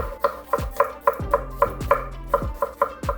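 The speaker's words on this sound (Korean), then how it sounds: "그리고 마늘 세 쪽 다져줄게요" A kitchen knife minces three garlic cloves on a cutting board, tapping out about a dozen quick, evenly spaced chops, close and crisp with no talk over them.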